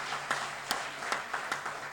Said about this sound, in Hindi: एक बार ऐसे प्रधानमंत्री के लिए भी जोरदार तालियां बजाएं साहब।